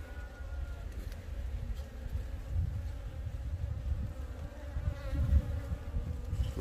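Honeybees humming around a hive colony being fed, a steady low droning buzz that swells and fades slightly, fairly soft and continuous with no talking.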